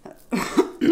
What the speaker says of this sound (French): quand je vous dis c'est la toux, ça me fatigue et tout